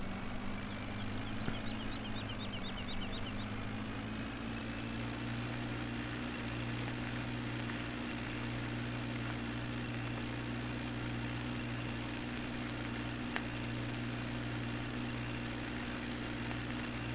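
A tractor engine in the video game Farming Simulator 17 idles with a constant low, droning rumble that holds steady and unchanging throughout.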